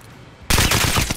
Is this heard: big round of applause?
no